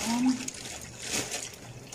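Running water from a tap rinses freshly cleaned seafood, giving a close, continuous splashing trickle with a few louder spatters.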